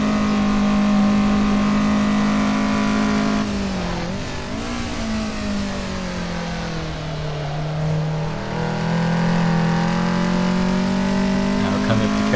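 Car engine at sustained high revs during a 1990s Japanese car race lap on the Nordschleife in Assetto Corsa, droning loud and steady with pitch dips and rises through corners, no talk.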